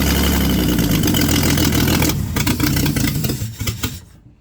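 A 1953 Ford 4x4 engine runs loud and raw with no muffler, a rough, throaty rumble close by that sputters unevenly and dies away at the end.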